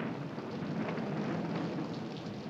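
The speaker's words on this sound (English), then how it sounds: "It's starting to rain." Steady rain falls outdoors, a dense even wash of drops with a low rumbling undertone, continuous and fairly close with no voices.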